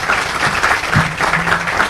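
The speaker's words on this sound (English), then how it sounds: "Can we have a round of applause for his..." Steady applause from an audience, dense clapping filling the whole moment at a loud, even level.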